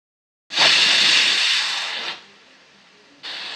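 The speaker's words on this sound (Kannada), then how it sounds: "ಕುಕ್ಕರ್ 2 ವಿಷಲ್ ಕೂಗಿದ ಮೇಲೆ ತಣ್ಣಗಾಗಲು ಬಿಟ್ಟುಬಿಡಿ" A pressure cooker cooking toor dal lets out a loud, close steam whistle hiss that holds for about a second and a half, then drops to a softer hiss before surging again.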